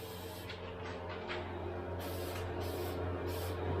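Spray paint hisses in short repeated bursts as pearly white paint is applied to a Miata dashboard, fairly close and steady between passes, with no talking.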